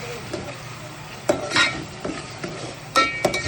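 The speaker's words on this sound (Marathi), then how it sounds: "सर्व मिश्रण एकत्र करून घेतोय." A spoon stirs a mixture of onion, tomato and salt in a pan while cooking chicken, with soft scraping strokes and a gentle sizzle at moderate volume, several distinct scrapes, no talk.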